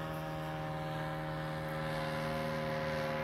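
Steady engine and propeller drone of an aircraft passing right overhead, loud and continuous with a strong low tonal hum that swells slightly toward the end, with no voices.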